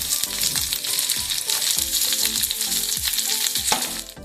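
Onion and green chili frying in hot oil: a loud, steady close sizzle with rhythmic scraping strokes of a spatula throughout, no one talking.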